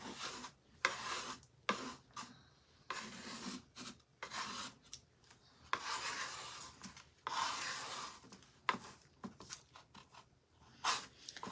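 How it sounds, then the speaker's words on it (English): A scraper rasps dried paint off a wooden gingerbread Christmas craft in a chippy farmhouse style, giving close, gritty scraping strokes in irregular bursts separated by short pauses, with no talking. "let's take the scraper and scrape some of this off"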